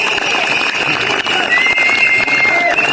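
A concert-hall audience at a student's public class performance in Negotin breaks into loud, dense, sustained applause, with steady clapping filling the room and a few faint voices underneath.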